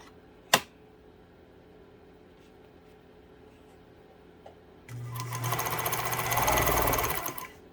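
After a sharp click and a quiet pause, a Pfaff 230 sewing machine starts up into a loud, rapid, steady mechanical chatter of stitching, close by.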